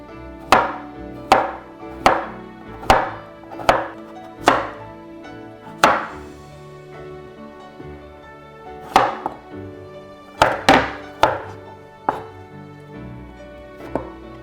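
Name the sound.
knife cutting cucumber on a board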